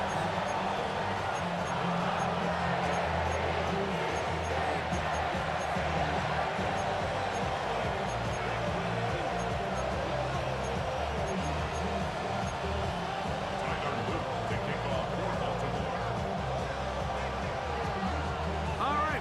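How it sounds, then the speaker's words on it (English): Stadium crowd at M&T Bank Stadium for an Eagles versus Ravens game in Madden NFL 26, a constant broad roar and murmur of spectators filling the background beneath commentators talking. "The crowd is definitely ready."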